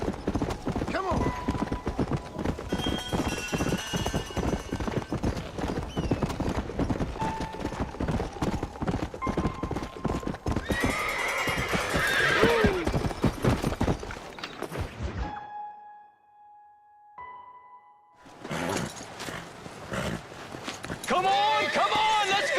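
Hooves clop rapidly and loudly over hard ground, a horse whinnies, and people shout over the commotion before a brief lull and more clopping.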